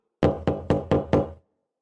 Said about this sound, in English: Suddenly there is a knock at the door.